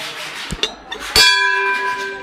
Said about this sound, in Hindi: यहाँ पे एक घंटी मिल जाती है हमें।